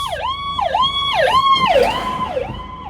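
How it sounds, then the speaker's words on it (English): Ambulance siren in heavy Memorial Day weekend traffic on Route 90 near Ocean City, Maryland, a loud close wailing yelp sweeping up and down repeatedly over road noise. "And yet another ambulance."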